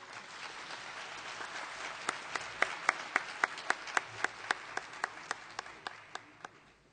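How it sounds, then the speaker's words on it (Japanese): Audience applause greeting a speaker's entrance at a meeting, a broad clapping wash with distinct louder claps in a regular rhythm emerging midway, tapering off toward the end. "皆様盛大な拍手をお願いいたします。"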